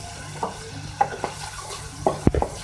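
Chicken with turmeric and Kashmiri red chili powder is stirred in a hot pan, with a soft sizzle under a few sharp spoon scrapes and clanks, clustered near the end.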